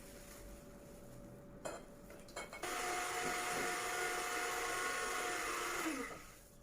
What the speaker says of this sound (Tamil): முதலில் 2 முட்டைகளையும் 1 நிமிடத்திற்கு அடிக்கவும்.